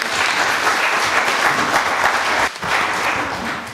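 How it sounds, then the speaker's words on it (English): At a Nairobi land justice working group event, a room applauds the Environment and Land team with loud, close, continuous clapping that dips briefly before carrying on. "Another clap for them."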